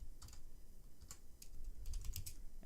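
Quick light keystrokes on a computer keyboard as a command is entered in a Linux terminal, a few short bursts of crisp clicks over a faint low hum, close and quiet.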